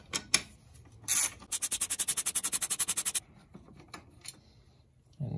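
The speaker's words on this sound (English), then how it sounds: "Next, we remove this whole bracket by taking these two screws out." Two screws are backed out of a bracket during a Honda kit install: a few scrapes and knocks, then a close, rapid run of evenly spaced ratcheting clicks lasting under two seconds, followed by quieter handling and a final thump.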